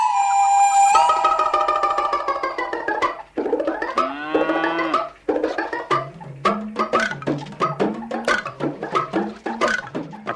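A water buffalo being bathed lows loudly and close by, starting with a long drawn-out call and followed by a string of shorter, uneven bellows.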